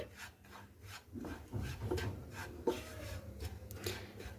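A spoon scrapes and rubs through two spoonfuls of gram flour roasting with spices in a pan, making soft, repeated close strokes at low volume.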